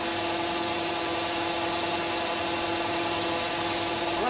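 A hydraulic pump unit runs at 2000 RPM with a continuous loud, even whine and steady hum throughout, close and without voices.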